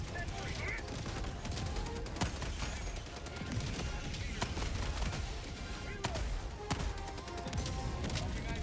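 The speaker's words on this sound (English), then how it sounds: "the orbital napalm barrage gonna clean that bad boy up really easily" Orbital napalm barrage pounding a bug breach in the distance during a max-difficulty mission: continuous rumbling blasts with scattered sharp impacts and crackling, steady and loud throughout.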